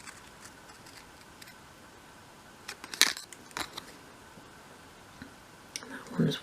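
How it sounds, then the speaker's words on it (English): Scissors snip through card for a dolls house attic craft room accessory, giving a few crisp, close cuts that stand out over a quiet background. "I'm just going to use my scissors actually"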